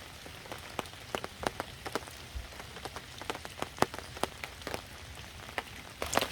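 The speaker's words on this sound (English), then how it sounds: "Rained all night, still raining." Steady rain falls on a campsite in Michigan's Upper Peninsula, a soft continuous patter broken by frequent sharp, close drops striking a surface, with no voices.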